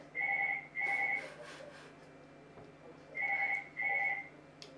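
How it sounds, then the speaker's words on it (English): An electronic phone rings in two pairs of short trilling bursts separated by a pause, fairly faint and indoors. "Phone's ringing."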